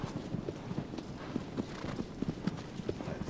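Horse hooves clip-clopping in the video game Shadow of the Colossus: a steady, moderately quiet trotting rhythm of hoof strikes over faint ambient background.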